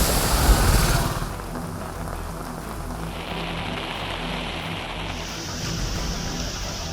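Heavy rain pours down around flooded roads in Thirthahalli, a dense, steady hiss that shifts in texture a few times but never lets up, with no voices.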